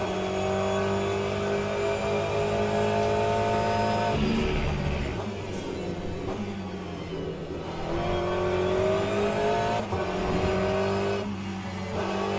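Race car engine whine in Le Mans Ultimate, a Porsche running close behind, loud and steady, with the pitch dipping and climbing through gear changes and no voices over it.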